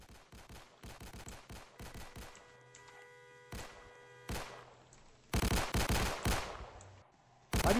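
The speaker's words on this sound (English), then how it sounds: "I just unloaded like 5 shots to him and just like 2 came out." Video game gunfire rings out in bursts during a sheriff's office riot scene: scattered single shots early, then denser volleys and rapid automatic fire that grow louder toward the end, with no talking.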